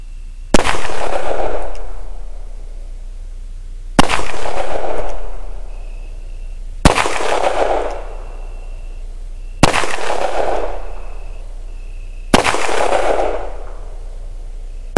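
Five loud, sharp gunshots from handloaded .357 Magnum rounds fired at an outdoor range, evenly spaced about three seconds apart, each with a booming reverberant tail that fades before the next shot.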